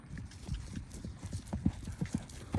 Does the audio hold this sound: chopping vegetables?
no